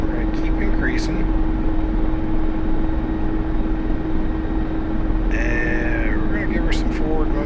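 Mi-24 Hind attack helicopter lifting off a runway in the DCS flight simulator, a steady loud rotor and turbine drone running throughout with a constant whine, while a voice talks over it.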